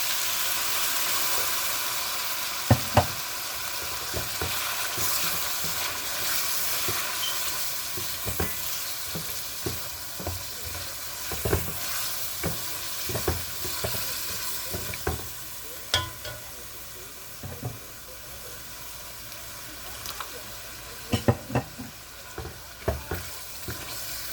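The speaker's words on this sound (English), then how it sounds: "I'm gonna let this fry up a little" Tomato sauce fries in two tablespoons of hot oil in a pan, a steady close hiss and crackle punctuated by scattered clicks and taps from stirring, with no voices.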